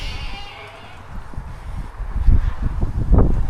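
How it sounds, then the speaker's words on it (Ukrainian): Wind buffets the microphone in low gusty rumbles, growing stronger toward the end, with faint rustling in the background. "Ще ветер дує."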